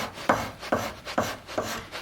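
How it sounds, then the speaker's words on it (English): A hand scraper strips old glue from a wooden chair in four sharp, evenly spaced rasping strokes, close and clear, with quiet gaps between. "I just use a scraper for that by and large."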